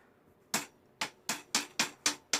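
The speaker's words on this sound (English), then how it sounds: "Hammer it," Six sharp hammer blows land on a shoe rack during assembly, the first alone and the rest in a quick, fairly even rhythm, each a crisp close knock with a short ringing decay and no talking.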